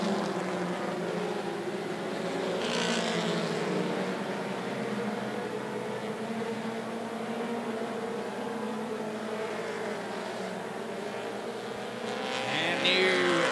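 Mini stock race cars roar around a short speedway oval, a dense blended engine drone from the pack with rising and falling pass-bys and a louder car sweeping close near the end.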